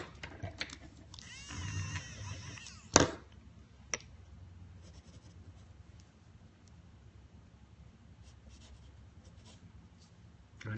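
Pencil strokes scratching across a small sketch card during a quick, loose drawing session, soft continuous scraping with a few sharper ticks, fairly close but quiet, with faint background noise and no clear talk.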